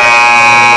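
A loud, steady electronic buzzer blares at a high school girls JV basketball game to end the first half, one continuous harsh tone filling the gym.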